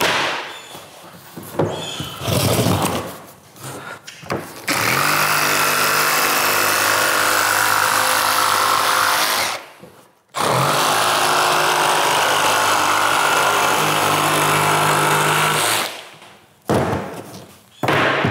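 Jigsaw cutting through vinyl plank flooring, a loud sustained buzzing run for about five seconds, stopping briefly, then another long cut of similar length, with scattered thumps and handling noises before and after.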